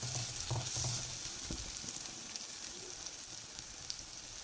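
Green chillies stirred in a hot frying pan while cooking sambar cheera thoran, a steady low sizzle with soft scraping stirs near the start, faint and continuous with no voices.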